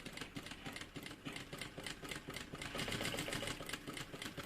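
A sewing machine stitching along the fold of a bag seam, a rapid steady mechanical rattle of the needle running continuously, quiet and close, speeding up slightly toward the end.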